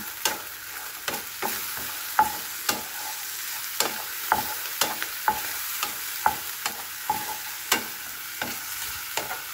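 Eggplant and corned beef fry in a pan, sizzling steadily while a utensil stirs and scrapes in about a dozen sharp, fairly regular strokes, close up and with no talk.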